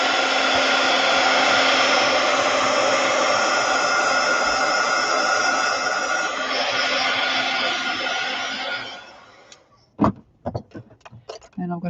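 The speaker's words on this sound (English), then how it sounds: "just a little hit with the heat gun, just to make sure" A heat gun blows a loud, steady broadband roar of hot air for about nine seconds during a craft project, then cuts off, leaving only scattered clicks and handling knocks.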